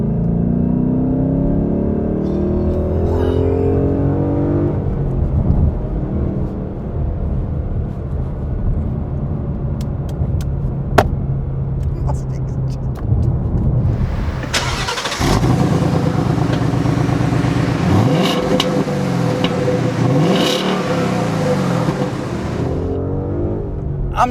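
Ford Mustang GT V8 engine and stock exhaust pulling in third gear from low revs: a deep continuous rumble that swells to a harsher, louder roar midway, heard from inside the cabin with no talking.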